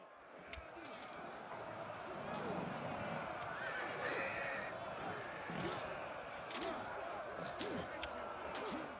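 A horse neighs and whinnies amid a busy video game battle din of clattering hooves and clashing thuds, with voices shouting underneath, in Total War.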